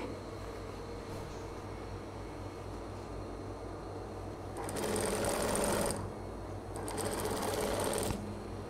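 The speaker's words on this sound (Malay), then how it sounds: "Jahit sampailah bawah. Pastikan samalah sampai bawah tu" An electric sewing machine stitches a kaftan seam in two whirring bursts of about a second each, close and steady, after a stretch of low room hum.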